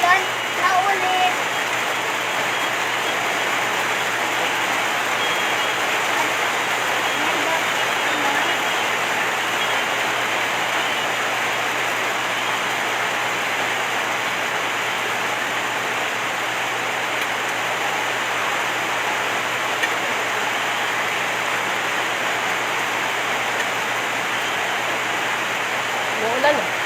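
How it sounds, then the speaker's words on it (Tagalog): Steady rain pours down around a home, a dense, even hiss that holds at the same level the whole time with no breaks. "Umuulan po dito ngayon sa amin."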